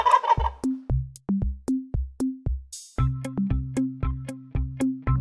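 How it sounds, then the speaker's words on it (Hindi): A turkey gobbles in a run of short, rapid calls over a steady, evenly pulsing backing beat, fairly close and clear. "टर्की।"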